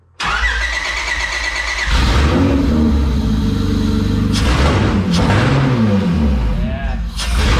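A J32 V6 swapped into an EG Honda Civic starts and revs, the engine note rising and falling in a few loud, close pulls.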